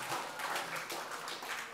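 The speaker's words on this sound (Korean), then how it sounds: "우리 박수로 한번 이 현장을 축하했으면 좋겠어요." Church congregation clapping together in celebration during a Sunday worship service, a steady dense patter of many hands at moderate distance filling the whole short stretch.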